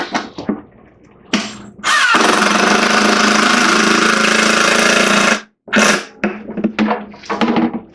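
A power drill whirs in a sustained burst of a few seconds while building a DIY deer feeder, preceded and followed by shorter stop-start runs and quiet handling sounds nearby.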